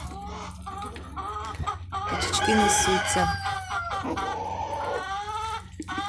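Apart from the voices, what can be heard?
ducks and chickens on a farm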